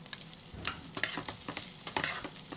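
Chicken gizzard curry is stirred in a cooking pot, giving a soft continuous sizzle with repeated scraping strokes of the spoon against the pot at an uneven rhythm.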